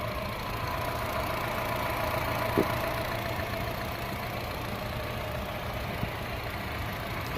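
A used, non-accident pure-petrol car's engine idles with a steady, even hum. Two faint clicks sound above it and no one speaks.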